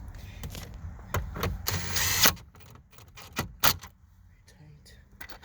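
Impact wrench spinning bolts on a 1995 Ford Ranger gauge cluster, a couple of short close whirring bursts amid clicks and handling noises, the longest burst near the start.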